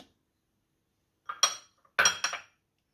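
Tomatoes dropped into a steel mixer jar while making tomato chutney in a kitchen, giving two short bursts of close clinks and knocks after a silent start, with no talking.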